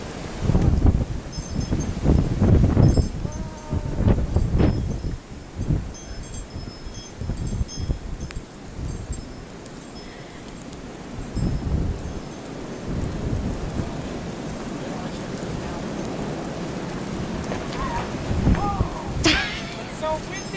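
Strong, gusty wind buffeting a microphone outdoors in a post-Christmas blizzard snowstorm, loud rumbling bursts rising and falling throughout, with an adult and someone talking over it.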